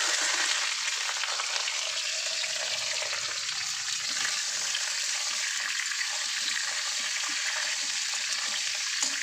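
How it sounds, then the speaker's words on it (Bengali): Potatoes and pointed gourd frying with panch phoron in hot oil, a continuous even hiss and sizzle, moderately quiet and steady throughout with no voices. "পটলগুলো আর আলুগুলো ফোড়নের সঙ্গে একটু লাল লাল করে ভেজে নেব"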